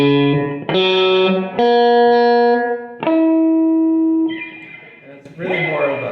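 Guitar played through a First Act M2A-15 practice amplifier with the overdrive gain engaged: a few sustained, gritty chords ring out loud and close, each held for about a second before the next strike, with a noisy strum at the end.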